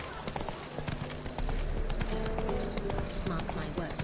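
Hoofbeats of Roach, a video game horse, galloping in a steady rhythmic clip-clop under constant background game sound. A voice speaks over part of the run.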